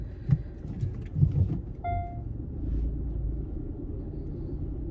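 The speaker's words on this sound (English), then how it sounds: "So I'm reversing to get a space." A car reversing to get into a parking space, a low engine rumble from inside with a few thumps and clicks early on and a brief beeping tone, the idle holding steady as the car backs up.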